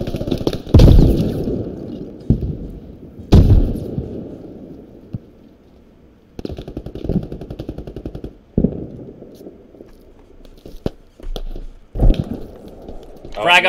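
Frag grenade explosions and bursts of gunfire in the military shooter Squad, loud sharp blasts recurring several times with rumbling decay between them, under occasional voices.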